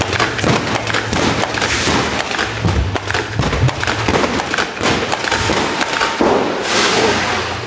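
Black-powder stage pyrotechnics at the open-air Störtebeker pirate show on Rügen crackle and bang in a rapid, dense volley of loud sharp reports and thuds, continuing for several seconds with a brief hiss near the end.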